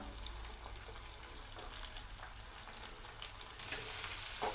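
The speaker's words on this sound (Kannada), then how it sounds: "ಈರುಳ್ಳಿ ಎಲ್ಲ ಹಾಕ್ಕೊಂಡು ಸ್ವಲ್ಪ ಫ್ರೈ ಮಾಡೋಣ" Onions sizzle and fry steadily in hot oil for onion chitranna, a continuous close crackle with a brief stir and a louder burst near the end, no talking.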